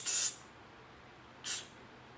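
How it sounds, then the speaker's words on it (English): Non-stick cooking spray hisses from a can in two short bursts, close and fairly quiet, separated by a brief pause with no talking. "You want some non-stick cooking spray."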